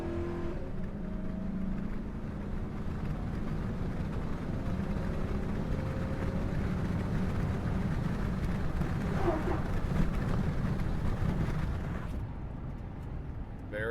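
A 2003 GMC Sierra SLT 1500 pickup accelerates hard, its engine a steady, fairly quiet rumbling roar that holds for most of the stretch before easing off near the end.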